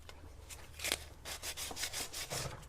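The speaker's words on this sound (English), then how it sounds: "Sand to get that edge trimmed away" Sandpaper rubs along the edge of a painted air-dry clay snowglobe piece in quick, rhythmic close strokes, a dry scratchy rasp with no talk.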